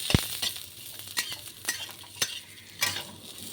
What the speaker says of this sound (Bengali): যে আমড়াগুলো কেটে রেখেছিলাম আমড়াগুলো তেলে দিয়ে দিচ্ছি একটু নাড়াচাড়া করে নেব